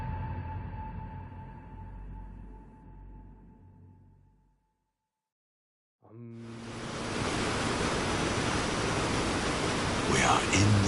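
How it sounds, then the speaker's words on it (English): Forest waterfall ambience from the video game Cyberpunk 2077: a steady, loud broadband rush of falling water that cuts in after a short silence and holds evenly to the end, with softer layered sound fading out before the gap. "We are in the forest. Before us is a waterfall."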